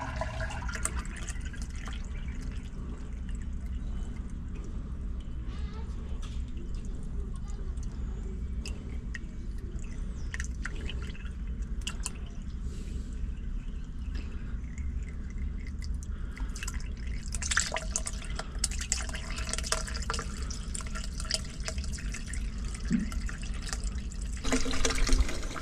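Water flows steadily down a freshly cleared, formerly blocked drain, a continuous close rush with trickles and drips and no pauses throughout.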